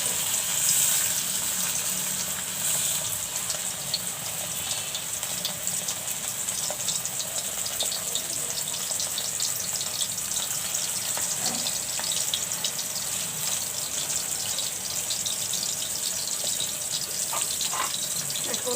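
Beef chops frying in mustard oil in a pan, giving a steady, close, continuous sizzle and hiss with light crackles throughout, with no talking.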